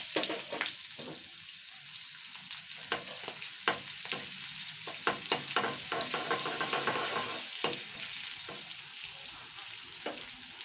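Green chillies, crushed ginger and popping black mustard seeds fry in hot oil, giving a continuous bright sizzle broken by sharp crackles and spatters throughout, close and fairly loud with no talk.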